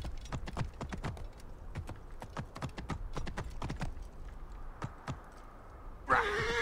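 Horse hooves in Assassin's Creed Origins clop in an uneven, trotting rhythm for several seconds before they stop. A sudden louder burst of game sound follows at the end.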